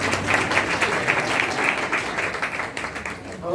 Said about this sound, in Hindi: अरे अपने लिए एक बार ताली तो हो जाओ